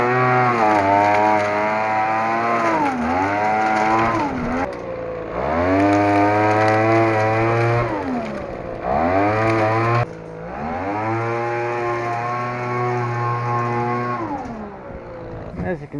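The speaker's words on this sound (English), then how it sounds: "So I've converted my blower to the vac option." A leaf blower switched to vacuum mode runs loud and steady during a back yard cleanup, its engine pitch rising and falling with throttle changes and briefly dropping out between runs.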